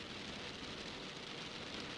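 Steady rain falls through the night as an even, close hiss that holds at the same level throughout, with no voices.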